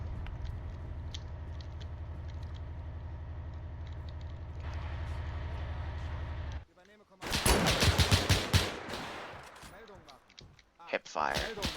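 Hip-fired gunshots in Arma 3 with Iron Front weapons during a town assault: a sudden, dense burst of rapid automatic fire after a steady engine drone, loud and close, followed by sparse shots and voices talking.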